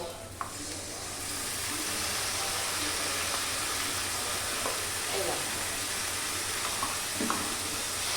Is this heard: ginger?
yes